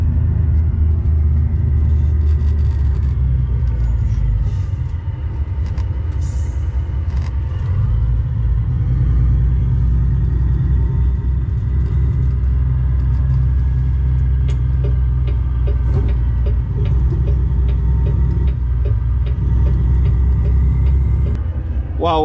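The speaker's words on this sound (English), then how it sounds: "While we're stuck here in traffic" Continuous low engine rumble of road traffic in American Truck Simulator, with trucks and cars idling and creeping along a road in Washington, steady and fairly loud throughout with occasional faint clanks and hisses.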